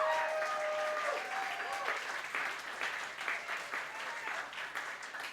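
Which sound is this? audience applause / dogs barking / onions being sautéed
audience applause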